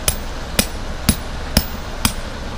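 A vibration-free mallet drives tent pegs while a Durango Mini tent is pitched outdoors, five sharp, evenly spaced knocks about half a second apart, close and fairly loud, with no talk.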